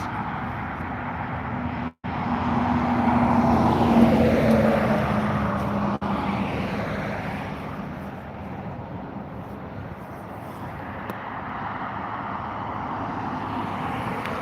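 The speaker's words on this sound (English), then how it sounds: "beginning its takeoff roll now is a Boeing 737 MAX 8 of Ryanair heading over to Gran Canaria" A Ryanair Boeing 737 MAX 8 at Dublin Airport spools up and starts its takeoff roll toward Gran Canaria, a distant, broad jet roar that swells and then lingers steadily.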